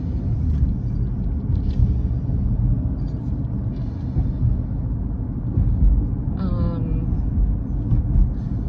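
A car on an ordinary drive, heard from inside as a steady low rumble of road and engine noise with no break, with a brief faint chirp partway through.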